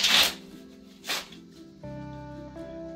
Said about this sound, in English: We're going to shuffle them up.